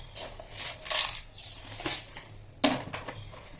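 Spoonfuls of raw atop rice are tipped into a bowl, making three distinct rattling pours of grains with a metallic spoon clink on each, close and moderately loud with no talk.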